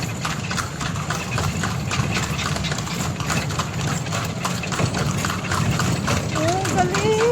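Horse hooves clip-clopping on a street in Vigan City, Ilocos Sur, a steady rhythm under an engine idling nearby and people talking throughout.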